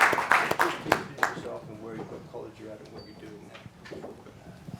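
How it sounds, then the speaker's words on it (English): Brief applause from a lecture audience, a burst of claps that thins out after a second or so as a voice begins talking over the quieting room. "perhaps we could have a round of applause"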